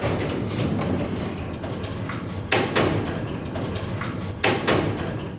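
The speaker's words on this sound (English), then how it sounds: "you're about to shut the door" Heavy old cell door in a 1914 jailhouse being shut, two sharp metallic slams about two seconds apart standing out over a steady rumbling background.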